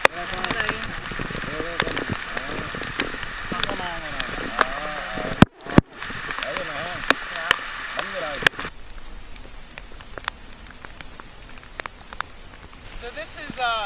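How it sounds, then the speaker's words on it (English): Monsoon rain falls at a fishing spot in a Vietnamese national park, a loud continuous hiss of heavy drops on surfaces with a brief drop-out midway, while a person speaks over the downpour in the first half. "So this is monsoon rain, and I'm experiencing it firsthand."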